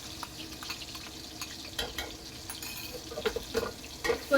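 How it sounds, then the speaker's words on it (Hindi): Onion and tomato paste fries in hot oil for a baingan masala curry, a soft watery sizzle with scattered stirring clatter that grows busier toward the end, close by and without speech. "ऑयल गर्म हो गया, प्याज और टमाटर का पेस्ट इसमें डाल दें"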